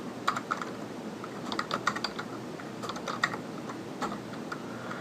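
Typing on a computer keyboard while entering a spreadsheet formula, irregular bursts of crisp close key clicks with short pauses between them, no talking.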